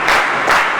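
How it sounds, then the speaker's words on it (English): A classroom of students claps together in two quick bursts of applause, close and fairly loud, with no talking. "3 claps for her"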